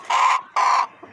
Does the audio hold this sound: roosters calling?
yes